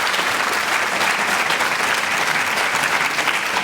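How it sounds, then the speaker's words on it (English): Steady, sustained audience applause from a lecture crowd, dense clapping filling the whole stretch at even loudness with no talk over it. "So again, a round of applause for Orla."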